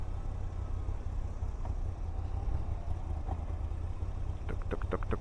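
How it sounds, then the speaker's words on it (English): A Moto Guzzi V85TT motorcycle engine runs steadily at low pitch beneath loud wind rumble, with a few brief clicks and a short burst of higher chatter near the end. "This engine is surprising."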